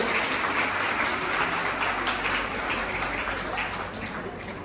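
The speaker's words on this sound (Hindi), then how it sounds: "तालियां बजा करके अतिथियों का स्वागत करें।" An audience welcomes guests onto the stage at an event for girls and women with sustained applause, a dense wash of many hands clapping that stays steady and slowly eases toward the end.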